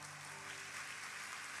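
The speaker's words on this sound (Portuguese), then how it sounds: "Pode aplaudir o Senhor." Applause from a church audience, steady and moderately distant, a continuous wash of clapping with no voices.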